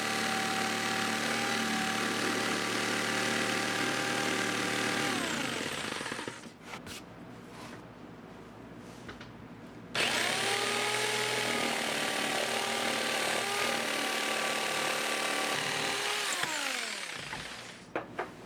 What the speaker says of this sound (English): Now I'm going to use my jigsaw and I'm going to cut way wide of this line